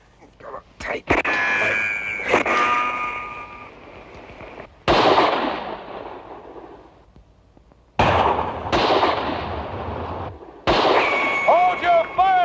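Gunfire in a 1960s film battle against bandits in South Africa, with several loud sharp shots and crackling bursts separated by ringing and hiss, alongside shouting voices.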